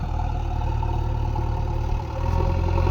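Mahindra Yuvo tractor stuck in a river, engine idling with a steady low rumble and clatter, close and continuous.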